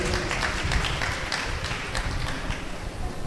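A church congregation claps loudly in praise after a healing testimony, a dense, steady wash of many hands that holds at full strength for the whole stretch, close and unbroken, with no voices standing out.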